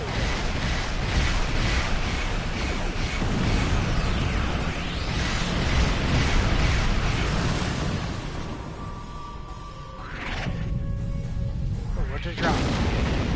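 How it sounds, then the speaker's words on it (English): Explosions in the video game Star Trek Online, loud booming bursts and rumbling roars that fade briefly before more whooshing blasts return. "that was just an explosion"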